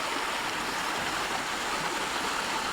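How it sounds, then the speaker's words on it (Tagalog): A strong river current rushes past a site where a worker's barrier keeps being damaged, a dense, steady roar of flowing water heard up close with no talking. "ang lakas ng tubig dito"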